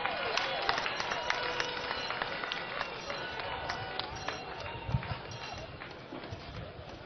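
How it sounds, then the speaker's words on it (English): A crowd at a political rally in Bolga, Ghana, applauds steadily for several seconds, a dense wash of clapping with some cheering, a voice talking over it. "Let's give him another round of applause."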